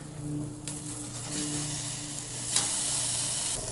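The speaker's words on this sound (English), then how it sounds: "it looks like it's sizzling pretty good" A ribeye steak sizzles loudly in a hot pan, a continuous close hiss that swells briefly as more fat spits, with no talking.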